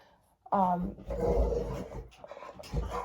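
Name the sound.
two dogs antagonizing each other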